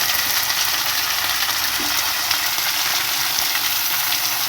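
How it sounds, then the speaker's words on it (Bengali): Prawn heads sizzle in hot oil in a home kitchen, a steady loud hiss of frying that runs unbroken from start to finish with no voices. "এরপরে যে মাথাগুলো আছে সেগুলো তেলের জন্য এর মধ্যে ভেজে নেবো"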